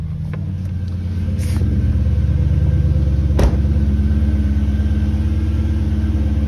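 A 2001 Lexus LS430 engine with a muffler delete idles loud and close with a deep, throaty burble, raw and unmuffled, holding a steady rhythm throughout.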